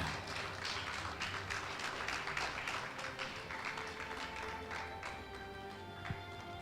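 Church congregation applauding, a sustained, fairly faint spread of many hands clapping in an irregular patter that continues steadily throughout without a break.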